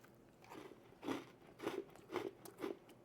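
Close crisp bites and crunches of homemade vanilla wafer cookies, four or five distinct crunchy snaps spaced about half a second apart, fairly quiet with no talk.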